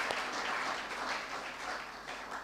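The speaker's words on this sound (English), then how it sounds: "In fact, all of you, student bodies, give a clap." At a university student forum, the audience and student bodies give a full, continuous round of clapping that holds at a steady level for a few seconds.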